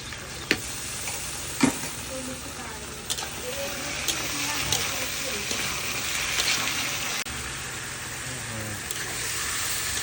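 Chilli, ginger and garlic pastes sizzle steadily in a hot pan for a Bengali fish curry, with a spoon scraping and stirring through the oil in occasional sharp clicks, close and fairly loud throughout.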